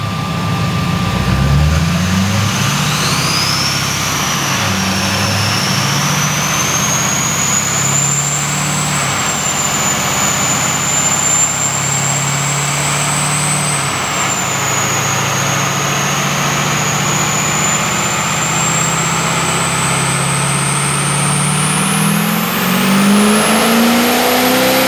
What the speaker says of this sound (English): let's see what a 68 millimeter turbo can do to a Duramax.